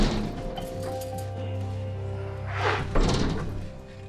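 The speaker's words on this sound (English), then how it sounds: "A 25-ton steel door swings shut." A heavy 25-ton steel blast door swings shut in a nuclear bunker deep inside a mountain. A deep, resonant thud lands near the end, over a sustained musical drone.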